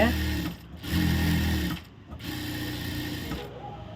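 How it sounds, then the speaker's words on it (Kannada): Sewing machine running in bursts while stitching the back of a blouse, a steady mechanical whir that pauses twice briefly, with a voice talking over it. "ಇದ್ರ ಮೇಲೆ ಹೊಲಿಗೆ ಹಾಕ್ತೀನಿ."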